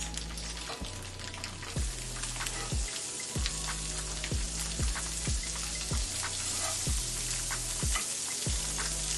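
Butter sizzling in a pan with tofu, a dense steady crackle and spatter with a regular rhythmic thump underneath, close and continuous with no talking.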